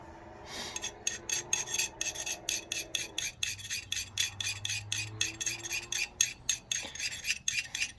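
A knife being sharpened on a Corona carbide sharpener: quick, evenly spaced rasping strokes of steel dragged across carbide, close and crisp, repeating steadily without pause.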